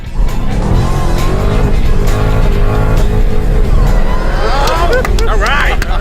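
A race car on a track at full throttle, its engine roaring loud and close with rising revs, tyres squealing toward the end and voices talking over the noise.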